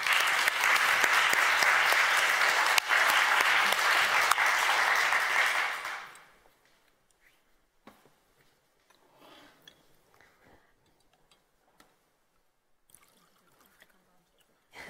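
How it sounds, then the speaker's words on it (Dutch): An audience at a public lecture applauds warmly for about six seconds, a dense, steady clapping that cuts off abruptly into near silence with faint rustles and small sounds. "Dus geef haar een warm applaus."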